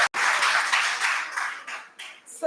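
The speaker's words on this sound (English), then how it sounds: "Give me a clap if you believe" Audience clapping during a fashion education talk, a fairly quiet burst of many hands that swells and fades in uneven waves after a brief silence, ending with a sharper few claps.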